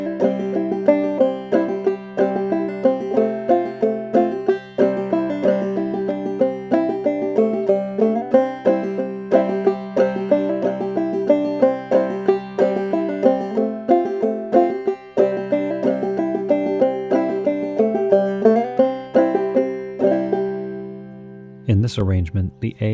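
Clawhammer banjo picks out the B section of the old-time tune Sugar Hill, a steady, bright rhythmic run of plucked notes lasting about twenty seconds, played alone and close, ending with a brief low thump.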